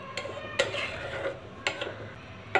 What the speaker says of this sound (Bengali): ভালো করে নেড়ে দেবো, ফ্লেমটাকে হাই করে দিলাম